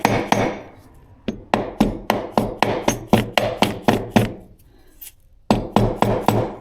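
Sharp hammer taps ring out in quick, steady runs of blows seating transmission parts in a Suzuki DRZ400SM engine rebuild, with a brief pause between bursts, close and loud.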